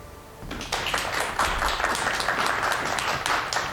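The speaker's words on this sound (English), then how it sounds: "They stay clapping." A group clapping that starts abruptly about half a second in and continues as a steady, fairly close patter of hands until the end.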